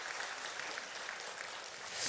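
A church congregation at Sunday worship claps together, a steady wash of applause held at an even level for the whole moment, with no voices over it.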